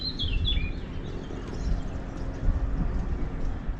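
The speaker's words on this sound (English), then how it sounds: "you can hear the birds chirping" A few high, quick bird chirps ring out early in Capri, Italy, then fade, over a low rumbling outdoor background.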